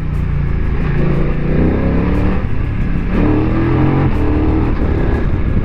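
A BMW motorcycle with a quick shifter and electronic ESA suspension accelerating hard, its engine note loud and close, rising through gears with brief cuts between shifts throughout.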